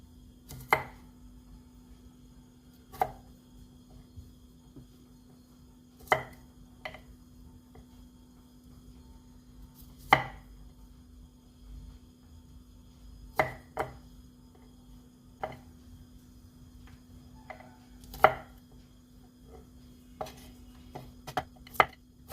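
Vegetables being cut on a board: sharp, separate knife chops spaced a few seconds apart at an uneven pace, close and fairly quiet over a low steady hum, with no talking.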